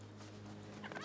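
Turkey in the video game New World gobbling near the end, a brief burst of warbling calls after a stretch of low steady game ambience, fairly quiet.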